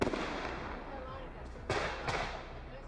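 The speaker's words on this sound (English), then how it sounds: "all of this happened in the middle of real fireworks." Fireworks bang and crackle through a dense wash of noise, with two sharp louder bursts near the end.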